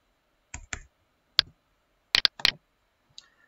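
A computer mouse clicks while a variable is created in the Scratch programming environment, sharp, close clicks in small clusters of one to three with quiet gaps between, no talking.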